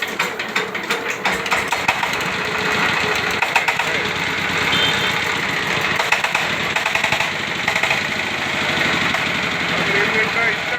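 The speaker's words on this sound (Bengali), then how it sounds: "ইঞ্জিনটা স্টার্ট হয়ে গেছে," A Sifang 25 HP diesel power tiller engine runs steadily with a loud, rapid knocking chug throughout, close by, and voices speak over it.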